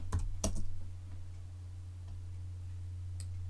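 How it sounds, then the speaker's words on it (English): A computer keyboard gives a few quick clicks near the start and one more near the end, typed over a constant low hum in a quiet room, with no talking. "So if I type in this command here and then click enter and then type in killall dock"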